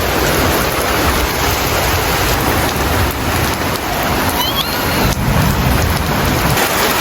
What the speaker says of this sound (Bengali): একটু দেখেন আপনারা যে কি পরিমাণ বৃষ্টি পড়তে আছে